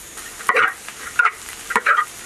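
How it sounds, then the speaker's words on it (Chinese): Preserved salted vegetables stir-fried with twice-cooked pork in a wok, four brisk bursts of scraping and sizzling from the spatula over a quiet background sizzle, close and fairly soft. "盐菜炒香了。"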